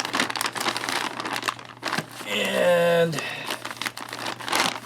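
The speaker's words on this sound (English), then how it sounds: "We'll try these little tear notches first." An Estonian 24-hour MRE ration bag is torn open at its tear notches, with crinkling plastic and a brief ripping tear amid talk.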